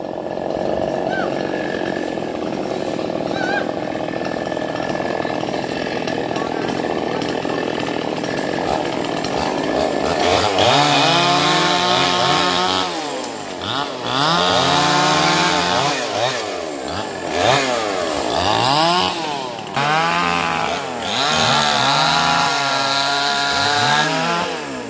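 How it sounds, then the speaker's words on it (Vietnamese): A chainsaw roars continuously, its pitch rising and falling as it cuts rubber tree wood into firewood, loud and close for most of the clip. "Nó phía dưới sẽ cưa củi ra khoảng 7 đến 8 tấc."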